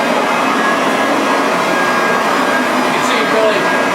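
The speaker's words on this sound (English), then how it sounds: "this pile lifter. It's a 67-pound vacuum cleaner with a nice soft nylon brush" A 67-pound pile lifter vacuum cleaner with a soft nylon brush works dry soil out of an Oriental area rug, giving a loud, steady whirring roar that holds without a break.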